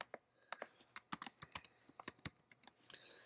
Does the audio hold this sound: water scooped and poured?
no